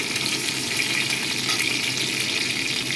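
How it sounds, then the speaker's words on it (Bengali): White sesame seeds fry in a pan over low heat for a chutney, giving a continuous, even sizzling hiss throughout with no voices. "দেখো, এগুলোকে ভেজে দিচ্ছি, হালকা করে দিয়েছি আঁচটাকে, ভেজে দিচ্ছি।"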